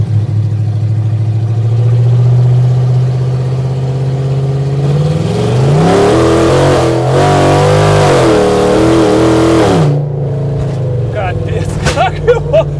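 A UAZ off-road vehicle with a 300-horsepower engine revs and accelerates hard nearby, the roar climbing in pitch before cutting off, with brief voices at the end.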